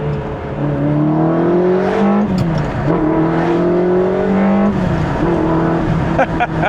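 A Ferrari 360 engine revs with a strong intake sound, pitch climbing in repeated rising pulls with brief drops between, loud and close.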